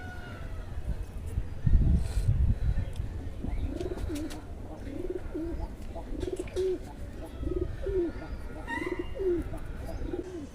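Pigeons coo in a run of soft, throaty calls, repeating every second or so, with rustling and faint background chatter.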